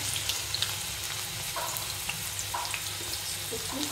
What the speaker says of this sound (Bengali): ফ্রাই প্যান বসিয়ে দিচ্ছি, তেল দিয়ে দিচ্ছি, দিয়ে দেবো পেঁয়াজ